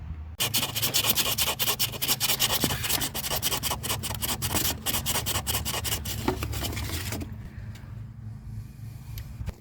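Rusty earth connection on an abandoned Mazda MX5 being scrubbed clean, a loud, close, continuous scraping and rasping with fast rhythmic strokes lasting about seven seconds before stopping abruptly, no talk.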